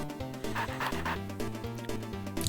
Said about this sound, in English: Ghost dog that loves to play tricks.